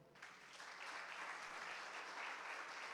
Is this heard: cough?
no